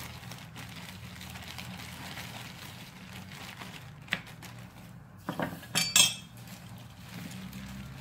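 Salt and black pepper being stirred into an olive oil mixture for a beef fillet steak: soft scraping and clinking of a utensil against a dish under a faint background hum, with a brief burst of sharp clinks near the end.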